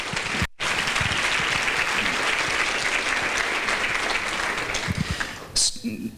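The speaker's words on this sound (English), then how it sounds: "Yes, that deserves a round of applause." A crowd applauds loudly and steadily at an awards luncheon, with dense clapping that drops out for a split second early on and then carries on nearly to the end.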